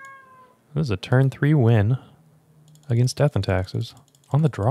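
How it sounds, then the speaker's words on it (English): A pet cat meows a few times close by, its drawn-out cries mixed with someone talking and computer keyboard typing during a Magic: The Gathering stream. "If you can hear my cat in the background"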